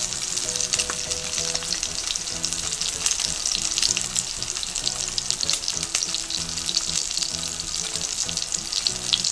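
A floured pork steak sears in a hot pan, giving a steady, close, loud sizzle and crackle with continuous spitting that holds even throughout, with no voices over it.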